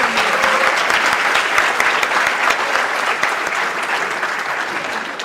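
Audience applause at a debate event, a dense steady clapping from a crowd filling the room, loud and continuous throughout without talk.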